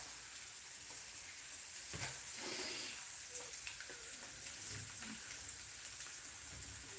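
Three chicken tenders sizzle and crackle steadily in a small, crowded frying pan, a continuous hiss of hot oil with scattered pops throughout, no talk over it.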